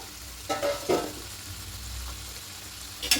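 Small lote fish (Bombay duck) sautéing in a pan for a spicy fish recipe, giving a steady soft sizzle with a few louder bursts of stirring or frying, close by and with no talking.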